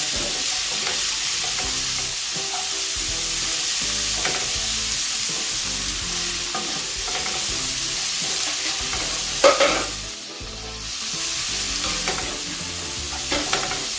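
Scallion, scotch bonnet pepper and thyme frying in a pan for Jamaican-style fricassee chicken, a steady close sizzle with occasional stirring scrapes throughout.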